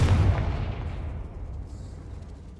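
A booming fire-spell blast (Confringo) from the Hogwarts Legacy video game, a heavy explosive burst at the start that rumbles and slowly fades over a couple of seconds.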